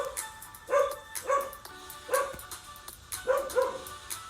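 A pet dog barks repeatedly indoors, a string of sharp, excited barks in uneven bursts at moderate distance, with a little yipping between them.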